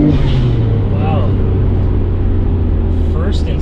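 A Nissan GT-R with an RB28 2.8-liter HKS stroker kit, forged internals, Step 2 VCam and GT2530 turbos, accelerating hard through the gears: a loud, close, unbroken engine roar, with people talking over it.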